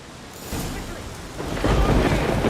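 Thunder rolls through a stormy sky in The Witcher 3, a low rumble swelling twice and growing louder over a bed of rain noise.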